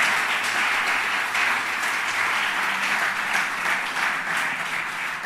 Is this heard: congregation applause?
yes